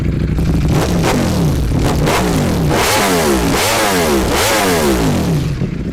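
A custom Ducati-style V4S motorcycle engine catches and runs loud and close, then revs hard in three quick rising-and-falling blips over a rough, constant idle roar.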